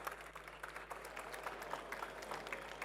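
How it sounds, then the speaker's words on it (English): Audience at a health and wellness conference giving a round of applause, steady distant clapping from a crowd in a hall, faint throughout. "Give Her Excellency a big round of applause."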